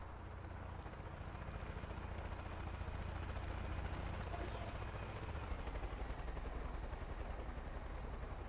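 A helicopter in the video game Far Cry 5 gives a steady, low rotor thrum with a continuous droning wash that holds at a moderate level throughout, without speech.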